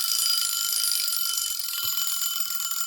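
A kitchen timer alarm rings steadily and fairly loud, a continuous high electronic tone that carries on for the whole stretch with no voices over it; it was set while paint remover worked on a model.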